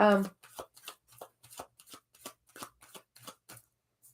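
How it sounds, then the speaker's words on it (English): Tarot card deck being shuffled by hand during a live reading: a steady series of short papery riffles and taps, close and crisp, after a brief voice at the start. "we are getting a card for Shanae"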